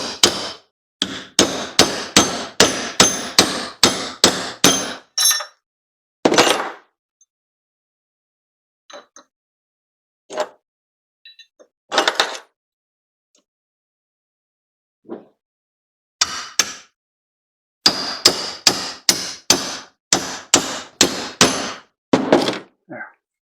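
Hammer blows driving two chisels into a wheelbarrow part held in a vise, rapid runs of sharp metallic thunks separated by pauses and a few scattered single strikes, loud and close.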